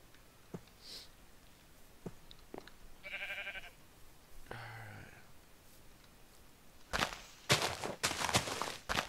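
Minecraft sheep give a couple of short bleats among sparse game effects and footsteps, faint and intermittent, followed by a louder burst of clattering sound at the end.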